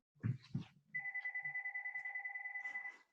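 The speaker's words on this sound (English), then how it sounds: "let me turn off this phone" A phone rings indoors during a talk with a steady electronic trill that pulses rapidly for about two seconds, clear and close. A few brief bumps come just before it.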